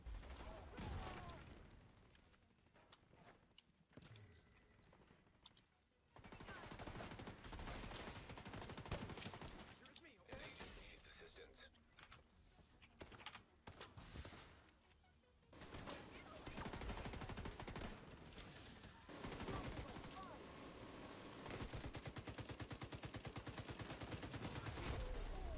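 Gunfire from a sniper in the video game Tom Clancy's The Division 2, with repeated sharp shots and bursts over dense game noise and effects, at a fairly low level.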